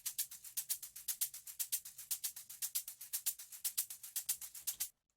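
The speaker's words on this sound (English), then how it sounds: "Some loose shakers, which sound like this on their own" Loose organic house shakers from a sample pack play alone in a steady, fast rhythmic pattern of bright, airy shakes, close and even, ending abruptly just before five seconds.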